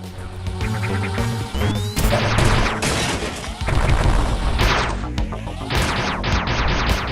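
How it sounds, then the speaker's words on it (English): Bombs going off in the game AM2R, a dense run of crashing explosive blasts and booms piling on top of each other over continuous game music, loud and close throughout. "I really like bombing around, doing bombs like this"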